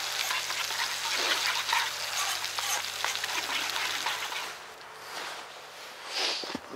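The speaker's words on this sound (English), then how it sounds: "Keep stirring our gravy." Pepper gravy bubbles and sizzles in a pan over a campfire, a soft continuous crackle with scraping strokes from stirring, fairly close and moderately quiet, thinning out toward the end.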